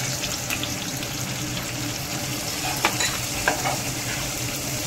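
Onion paste stirred and frying with mustard seeds in hot oil for potato curry, a continuous loud sizzle with scraping stir strokes and a couple of sharper spoon clinks.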